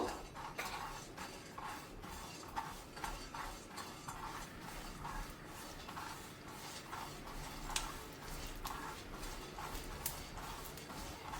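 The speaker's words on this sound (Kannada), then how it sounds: "ಇದೀಗ ಚಟಪಟ ಅಂತ ಇದೆ. ಈಗ ಮೆಲನ್ ಸೀಡ್ಸನ್ನು ಹುರಿದು ಆಗಿದೆ." Melon seeds dry-roasting in a pan give a steady stream of fine, close crackling and light ticking, with small pops scattered through the whole stretch at a fairly low level.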